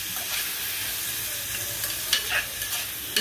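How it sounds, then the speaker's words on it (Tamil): A large tomato sautéing with spices in a hot pan, giving a steady, loud sizzle and hiss close up, with a few brief stirring scrapes toward the end. "ஒரே ஒரு பெரிய தக்காளி ஒன்று எடுத்துருக்கேன் அதையும் போட்டு நல்லா வதக்கணும்"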